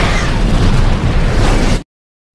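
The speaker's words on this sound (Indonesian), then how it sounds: "Tiba-tiba ambulan yang membawa Malcolm meledak." An ambulance explodes in an action film, a loud, dense roaring blast with rumbling bass that fills nearly two seconds before cutting off abruptly to silence.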